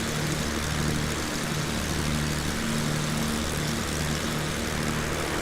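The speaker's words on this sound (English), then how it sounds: "the aircraft I am flying is a Beechcraft Baron 58" A Beechcraft Baron 58 twin propeller aircraft in Flight Simulator X, a steady loud engine drone with a constant propeller hum that holds unchanged throughout.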